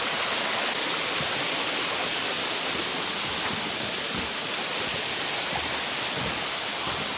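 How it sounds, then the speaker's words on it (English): Junction Falls pours down over rocks beneath a footbridge in Victoria's High Country, making a loud, steady, close rushing roar with no voices over it. "The water's just flowing down all the rocks here"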